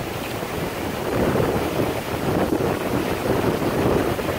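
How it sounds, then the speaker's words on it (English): Ocean surf rolling onto a beach on a windy day, a steady broadband wash of waves with wind buffeting the microphone, loud and continuous with no talk. "Just want to let you guys see the beach."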